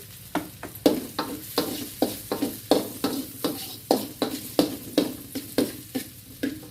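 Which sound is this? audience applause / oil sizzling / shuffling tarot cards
oil sizzling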